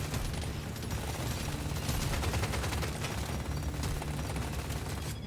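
Dense, continuous gunfire at a boss in the video game Deep Rock Galactic: Survivor, rapid shots blurring into a constant rattling roar with no pauses, loud and busy.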